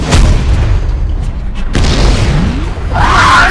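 A gunshot goes off in a staged Vietnamese action comedy skit parodying Journey to the West: a very loud, booming blast that rolls into a sustained rumble filling the whole moment, with no talk over it.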